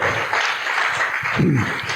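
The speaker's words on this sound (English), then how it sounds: "Let's give him a round of applause." Audience applause at a live show, a dense, continuous wash of clapping that holds steadily for a couple of seconds, with a faint voice briefly rising underneath near the end.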